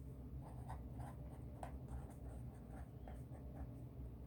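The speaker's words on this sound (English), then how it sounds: "Let me write that here." Someone writes out an algebra equation by hand during a lesson on solving two-step equations, producing soft, steady scratching strokes that are close and quiet, with no one speaking.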